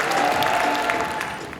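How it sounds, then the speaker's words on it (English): Applause from a gala audience for an honoree at a bar association dinner, a steady wash of many hands clapping that fades slightly toward the end. "Everyone, a round of applause for Gurdeep Singh."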